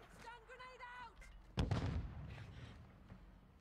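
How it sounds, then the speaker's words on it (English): Stun grenade going off in a video game, a single sharp, heavy bang with a thudding low boom that quickly fades, preceded by a faint voice. "Stun grenade out."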